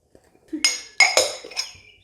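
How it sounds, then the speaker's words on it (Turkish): A whisk beating a dessert mixture in a bowl clinks against the sides in four or five sharp, bright taps, close and clear with quiet in between. "Şu şekilde güzel çırpıyorum"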